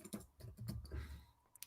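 Fingers type on a Spanish-layout computer keyboard, a quiet, irregular patter of key clicks heard close and alone.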